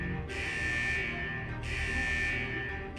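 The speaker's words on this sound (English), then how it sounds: "Is that the central alarm of the vault?" A vault's central alarm in the video game Wuthering Waves blares in two long, loud, steady pulses separated by a short gap, over a continuous low musical backdrop.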